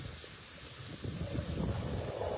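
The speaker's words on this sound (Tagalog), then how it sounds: "Mahangin ah." Steady wind buffets the microphone with a low, rumbling roar by a river, continuous and fairly close, with no voices.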